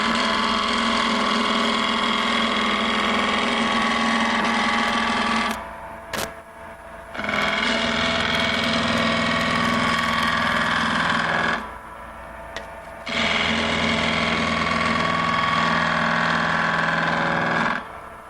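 A wood lathe spins steadily as a fingernail gouge cuts the turning furniture piece, producing a loud continuous grinding hum in two long bursts separated by short pauses where the cutting stops.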